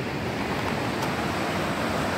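A flooded river rushes through Takelma Gorge in Oregon as a loud, constant broadband roar, steady and close, with no talking.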